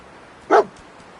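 Dogmeat, the dog companion in the video game Fallout 4, lets out a single short bark, close and clear over a quiet background.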